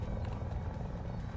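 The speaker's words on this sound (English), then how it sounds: "That is a heli." A helicopter in War Thunder's air and ground simulator battles hums as a steady low rotor rumble, continuous and fairly faint.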